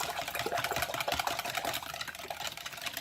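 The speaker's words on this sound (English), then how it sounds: "we're just going to whisk that together" Eggs and milk whisked together in a bowl with a worn whisk, giving a fast, steady clatter of wire strokes against the bowl, close and continuous for a few seconds.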